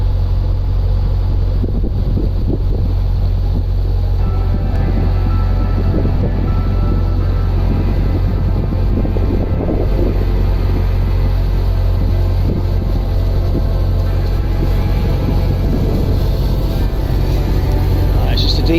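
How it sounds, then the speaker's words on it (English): A narrowboat's diesel engine at the stern runs as a steady low rumble throughout, out on the tidal Thames, with wind buffeting the microphone and people talking over it. "It's got a diesel engine at the back."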